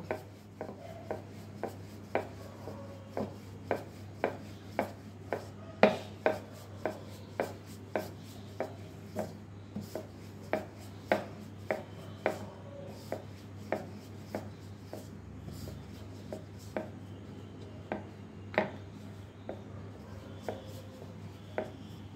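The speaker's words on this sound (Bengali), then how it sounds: "প্রথমে আমি একটা বড় রুটির আকারে বেলে নেব" Paratha dough for a chicken-stuffed flatbread is rolled out into a large round, marked by regular, evenly spaced soft taps and knocks of the rolling pin against the board over a faint steady hum.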